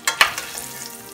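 Short burst of sizzling as coq au vin ingredients hit a hot pan, two sharp crackling hits followed by a softer fading fry.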